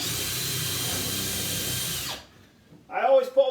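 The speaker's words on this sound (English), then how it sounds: "Drilling a hole straight through it." A power drill bores straight through a wood panel backed by a block during a kitchen fitting, whining steadily and close for about two seconds before stopping abruptly, followed by a brief voice.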